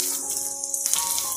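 Onion, garlic and green chilli frying in a pan with bay leaf and cinnamon, a short burst of bright, steady sizzling hiss, close and fairly loud.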